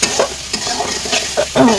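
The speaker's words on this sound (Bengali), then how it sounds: "মশলাটা ভাজা ভাজার মতো করে কিন্তু কষিয়ে নিয়েছি খুব সুন্দর করে মশলাটা কিন্তু কষানো হয়েছে" Spiced masala paste being stirred and fried in a pan while cooking chicken chaap, with a steady close sizzle broken by several scraping stirs of the spoon against the pan.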